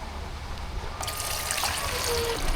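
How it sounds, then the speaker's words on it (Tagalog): Water poured into a container while preparing a tuktuk for a camping trip, a steady trickle that starts partway through and continues close and clear, with background noise throughout. "Maglagay ka muna ng tubig."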